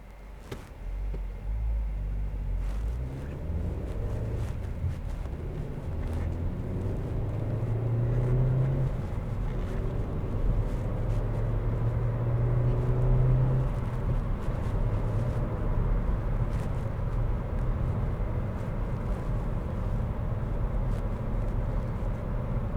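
Steady interior drive noise of a 2016 Vauxhall ADAM 1.4 three-door hatchback, a low engine and road rumble holding constant with slight rises in pitch as it accelerates, no talking.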